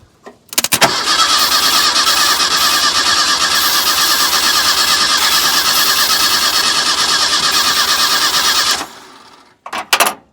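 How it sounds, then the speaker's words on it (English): A square body Ford Ranger engine cranks over with starting fluid, a loud, steady starter churn for about eight seconds that stops without catching, followed by a couple of brief mechanical clunks. "Well, it spins over pretty good, but wasn't enough starting fluid."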